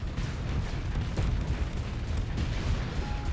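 Explosions and weapon fire from the space combat game Starsector roll on continuously, with dense rumbling booms and crackling bursts layered over each other.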